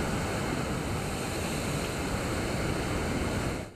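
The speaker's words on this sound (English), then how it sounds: "Waves crashing higher than David and Kathleen Hollenbeck have ever" Heavy surf pounds against the south side of the Venice jetties during stormy weather, a steady roaring wash of crashing waves that stays loud and dense throughout, mixed with wind.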